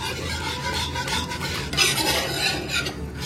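An egg and vanilla essence are mixed together in a bowl, giving a continuous close scraping and swishing of utensil against bowl that grows slightly brighter partway through.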